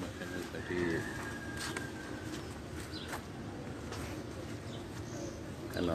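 Soft pigeon cooing rises and falls against a busy outdoor background with faint murmuring voices.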